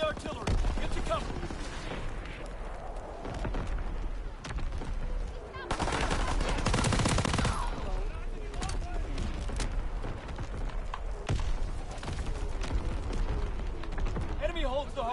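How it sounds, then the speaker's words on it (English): Incoming enemy artillery in the World War II shooter Call of Duty WW2, with repeated heavy blasts and gunfire rumbling through a busy multiplayer battle, and a swell of louder explosions midway. "Incoming enemy artillery."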